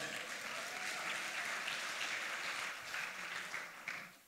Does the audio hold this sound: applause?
yes